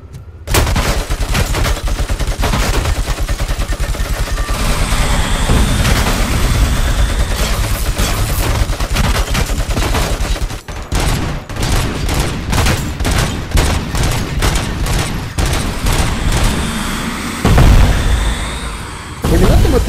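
Loud, sustained machine gun fire in the video game Robocop: Rogue City, rapid bursts and booms, a dense barrage that briefly cuts out midway and then resumes in choppy volleys.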